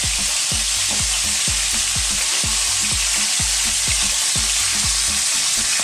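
Scallops seasoned with salt and black pepper fry in a hot pan, giving off a loud, steady, dense sizzle that fills the whole stretch with no voices over it.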